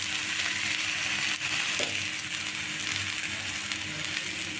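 Onion dosa fries in oil on a hot griddle, a steady close sizzle and crackle that runs unbroken throughout with no voices over it.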